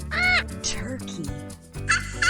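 A turkey gobbles in quick warbling bursts, close and loud, with music playing underneath.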